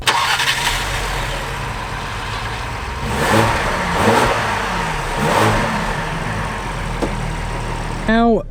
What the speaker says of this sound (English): let's actually finally take this out for a drive to see how the new Explorer drives